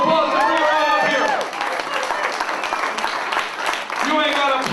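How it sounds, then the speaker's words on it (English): Audience at an arm wrestling show claps and cheers loudly from start to finish, with whoops and shouts rising above the steady applause and voices calling out through the crowd. "Round of applause to bring her on up here"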